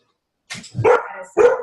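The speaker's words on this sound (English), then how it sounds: "My dog is going nuts" A dog barks sharply twice, close and loud, with a short pause between the barks.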